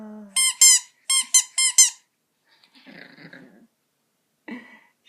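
A squeaky toy gives several sharp, quick squeaks in two bursts, then a pet chihuahua answers with a soft, wavering howl and a brief whimper afterward, close and fairly quiet.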